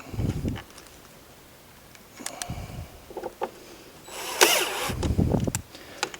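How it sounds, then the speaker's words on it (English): A power tool drives intermittently on screws being loosened and removed during a metal detector installation on a conveyor, short bursts of whirring and ratcheting separated by pauses and clanks, close by. "I'm loosening this one a little bit. I'm taking this completely out."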